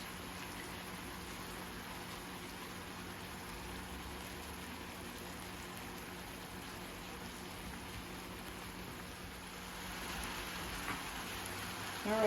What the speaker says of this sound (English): we are going to just let our chops just sear